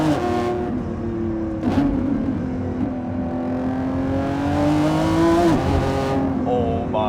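A 2025 Lamborghini Revuelto engine pulling at half throttle up to about 6,000 RPM on a canyon drive, heard from inside as a loud, steady, rising howl with shifts, brief breaks and a final drop in pitch.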